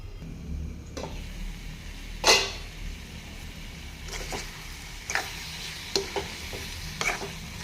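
Spice powders sizzling and being stirred in hot oil for a dried fish curry, with a soft continuous fry and scattered scraping clicks of a spoon against the pan, close and fairly quiet.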